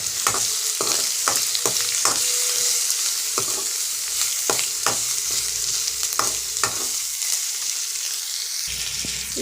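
Onion, green chili and ginger frying in a pan for oats vegetable khichadi, a strong steady sizzle punctuated by repeated scraping taps of a spatula, close and loud.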